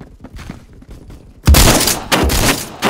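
Gunfire in the Roblox shooter Phantom Forces: a loud burst of shots erupts midway, with a second volley following, after a quieter stretch of faint distant thumps.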